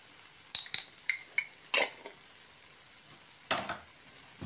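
Ingredients for white-wine ossobuco are stirred with a utensil, giving a handful of separate clinks and scrapes against the pot, close and moderately loud, with short quiet gaps between them.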